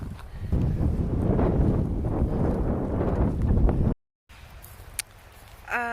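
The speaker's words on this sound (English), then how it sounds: "So windy." Strong wind gusts buffeting the microphone outdoors at a reservoir on a cool day, a loud continuous low roar for about four seconds, then a brief dropout and quieter rustling.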